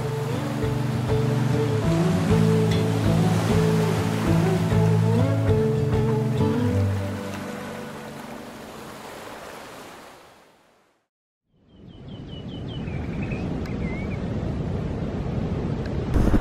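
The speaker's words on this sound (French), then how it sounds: "bercés par le bruit des vagues" Waves wash steadily onto a Corsican shore, a broad continuous surf roar with some wind buffeting, briefly dropping out near the middle before resuming.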